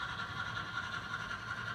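A small model railroad mogul steam locomotive running on a club layout, a steady faint mechanical hum and whir with light rail clicking, continuous and fairly quiet with no talking.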